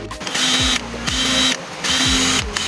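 Cordless impact wrench running in three loud bursts of about a second each, each spinning up with a descending tone and then holding a steady whine, with brief pauses between.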